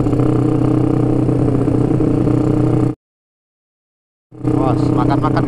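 Cars at a car club gathering by a roadside, loud sustained engine roar and rumble up close, cut off by a sudden gap of silence, then resuming with a rising rev tone.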